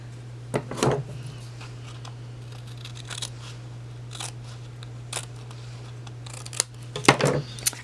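Scissors trimming a paper die-cut for a Stampin' Up! gingerbread haunted house craft, a few crisp separate snips close by with quiet handling sounds between them.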